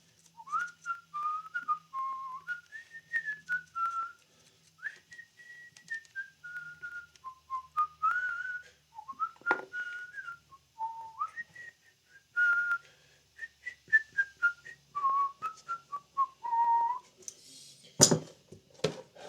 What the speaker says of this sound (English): What tune am I whistling